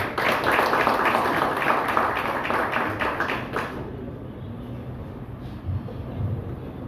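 Audience applause at a trade union's 30th anniversary celebration, a dense steady patter of many hands for about four seconds before fading into low room murmur.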